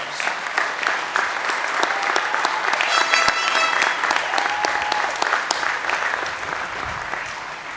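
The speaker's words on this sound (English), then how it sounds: "we should give them another audiovisual round of applause" Sustained applause from a crowd at a high school graduation, dense and even clapping throughout with a few faint whistles.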